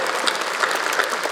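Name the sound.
audience applause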